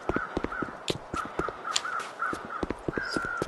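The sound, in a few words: crows cawing in The Long Dark video game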